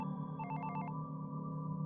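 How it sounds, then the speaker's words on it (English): A telephone ringtone sounds as one short burst of rapid electronic trilling pulses, about half a second long, over a steady low background hum, with no talking. "the phone rang again"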